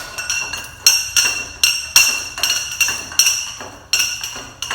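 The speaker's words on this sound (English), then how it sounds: "It broke that nut free so easy." Sharp metallic clanks, about a dozen in an uneven rhythm, come from a breaker bar and socket working a stubborn intake manifold nut on a JDM D16A engine in a Civic EG, close and loud with no voices.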